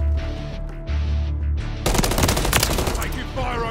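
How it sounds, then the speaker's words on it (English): Rapid automatic gunfire breaks out suddenly in Modern Warfare 3 on PC, a loud, dense burst of shots after a quieter stretch of game ambience and faint voices. "Taking fire over here."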